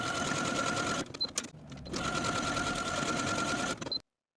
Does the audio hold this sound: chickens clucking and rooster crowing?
no